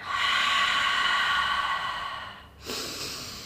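Short nasal inhale and long, deep exhale during a Pilates warm-up arm exercise, a sustained airy breath sound for over two seconds followed by a brief quick intake; close and fairly loud with no talk.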